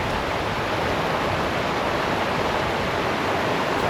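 The waterfall at Roški Slap over the travertine barrier in Krka National Park gives a steady, dense rush of falling water, loud and unbroken for the whole stretch, with no voices.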